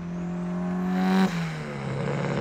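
A 500hp Mitsubishi Evo 9 revs its engine once, the exhaust tone climbing up to a sharp peak before dropping off into a crackling, settling idle, close and loud.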